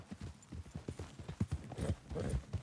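Horse hooves clip-clop in a steady, close, even rhythm while riding in the video game Red Dead Redemption 2, with the trotting beat running throughout.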